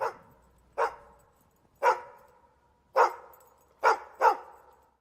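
A dog barks six times in sharp, separate bursts, loud and close, with uneven gaps between barks and no voices.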